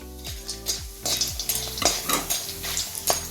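Whole spices including star anise roast in a spoonful of oil for homemade masala, sizzling softly while a utensil scrapes and clinks against the pan in quick repeated strokes.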